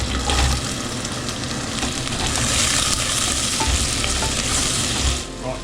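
Chopped onion frying in melted butter for a chicken biryani, a steady loud sizzle with stirring scrapes and a few low knocks against the pan.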